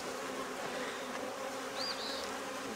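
Honeybees buzz steadily inside an opened hive during a homestead inspection, a close, continuous droning hum with a brief higher whine partway through.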